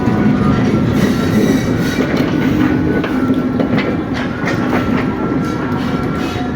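WDM-3A diesel locomotive 6505 hauls three coaches across rail points, a loud, close, continuous rumble with rhythmic wheel clatter and a faint squeal, and no talk.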